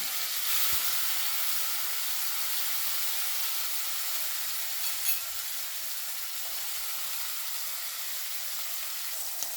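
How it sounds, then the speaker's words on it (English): Earth seasoning fries in hot oil in a pot, giving a steady, loud, close sizzle and hiss that holds without a break, with a couple of faint knocks and no voices. "So you're going to let this fry for a little while."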